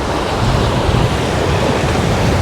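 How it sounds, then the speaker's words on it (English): Water rushes and splashes along the hull of a Beneteau First 30 planing sailboat running fast under spinnaker on an evening sail, a steady, close, continuous wash mixed with wind noise. "Some nice little puffs, some little waves on our quarters"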